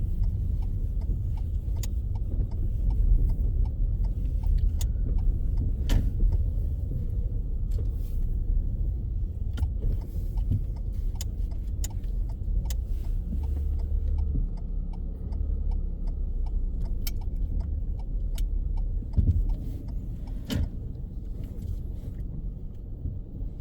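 Steady low engine rumble of a learner car creeping forward into a car park bay during a driving test, continuous and close with occasional faint clicks, no talk.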